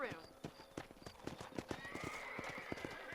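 Horse hooves clip-clop in a steady rhythm with a sharp neigh, from a horse in the Red Dead Redemption video game, heard alongside game voices talking.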